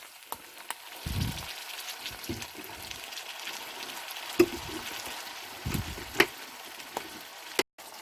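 Chili garlic sauce and soy sauce are stirred into a hot frying pan, giving a soft, close sizzle with scattered scrapes and clicks of a utensil against the pan and short low bursts between them, with no voices.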